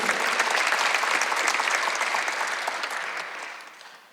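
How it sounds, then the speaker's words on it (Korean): A church congregation at an Easter service breaks into dense, steady applause that holds for a few seconds and then tapers off to quiet. "박수 한번 주세요."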